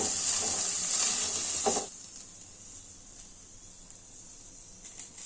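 Chili powder hitting hot oil with a snack of soaked spiced chickpeas, a bright close sizzle that cuts off sharply after about two seconds, leaving a faint hiss.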